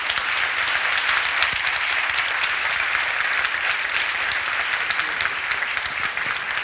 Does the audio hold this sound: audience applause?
yes